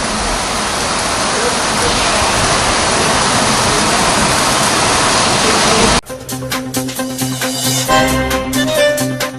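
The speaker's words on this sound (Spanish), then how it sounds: "Era el mes de marzo y empezó a llover." Rain falling in March, a loud, dense, continuous downpour hiss filling the first six seconds before it cuts abruptly to music.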